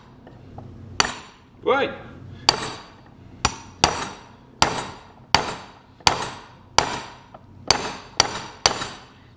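A hammer whacks a car control arm bushing housing on a MK5 in about a dozen sharp, ringing metallic strikes spaced roughly half a second apart, close and loud, with a brief spoken word early on.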